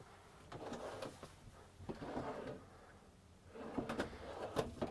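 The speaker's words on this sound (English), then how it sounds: "Again, all quiet closed drawers." Several soft, muffled thuds and slides of soft-close drawers being closed gently in a motorhome, with quiet pauses between them in a hushed room.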